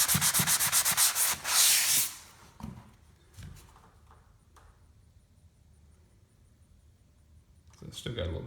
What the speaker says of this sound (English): you take that sanding block that can contour to what you need it to contour to